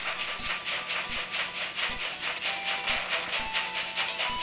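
Bomb train in the game Zelda Spirit Tracks chugs along in pursuit, a regular steam-engine chug with hissing puffs and low periodic thumps, steady and fairly loud with no talking.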